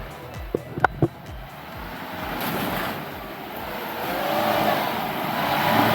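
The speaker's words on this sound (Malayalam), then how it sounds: "വണ്ടി അവിടുന്ന് ലോഞ്ച് ആയിട്ടുണ്ട് കേട്ടോ" A racing engine revs and roars off at an off-road track day launch in Wandoor, Kerala, its rumble swelling steadily louder over several seconds after a few sharp knocks.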